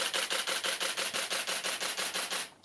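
A Nikon D810 shutter fires in continuous burst at six frames per second in DX mode, a rapid even train of about fifteen crisp mechanical clicks, close and fairly loud, stopping abruptly near the end.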